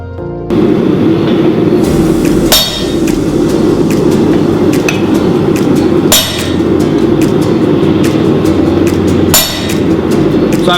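Hand hammer blows forging a steel punch on an anvil, a few loud, widely spaced metallic strikes over a steady roaring forge or blower hum.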